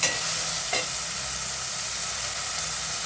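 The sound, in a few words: tomatoes added and sizzling in pan for egg masala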